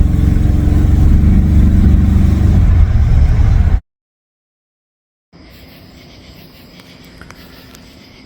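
A loud Chevrolet Silverado pickup engine rumbles steadily at close range, then the sound cuts out briefly before a quieter, steady running noise resumes.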